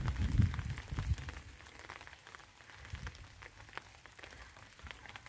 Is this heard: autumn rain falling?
yes